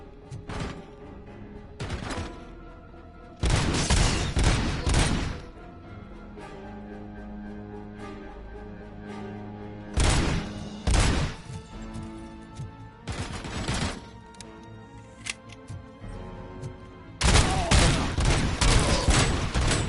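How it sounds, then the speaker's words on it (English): Bursts of rapid automatic gunfire from the RoboCop video game, loud dense volleys repeating in several separate long salvos with quieter game sound between them. "I like how this game gives you no warning. It's just straight shooting."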